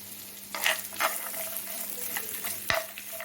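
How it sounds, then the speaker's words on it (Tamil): Chopped coconut sautéed in ghee until brown for Kerala kalathappam, a quiet steady sizzle with a few sharp scrapes and clicks of a spoon against the pan, and no voices. "இந்த தேங்காயை போட்டு நல்லா ப்ரௌனாக ப்ரௌனாக வர வரைக்கும் நம்ம வந்து வதக்கணும்"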